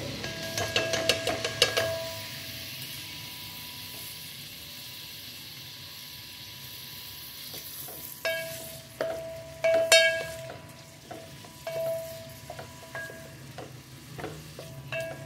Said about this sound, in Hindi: प्याज को आपने अच्छे तरीके से ब्राउन कर लेना है।